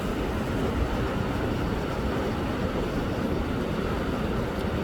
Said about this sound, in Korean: 바다 소리 좋고